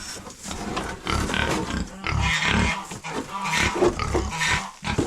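Pigs grunt and squeal loudly at close range on a rural Serbian farm, in a series of rough, overlapping bursts with short pauses between them.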